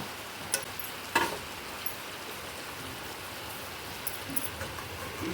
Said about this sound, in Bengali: এখন আমি একটু নেড়ে দিচ্ছি। একটু কাজ করছে তো, তাই আমি নাড়ছি।